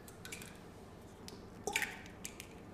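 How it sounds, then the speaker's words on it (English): Eggs cracked into a bowl for a rich chocolate cake batter: a brief wet crack and squish around the middle, followed by a few faint drips and light taps against the bowl, with no talking. "Now we're going to crack all our 5"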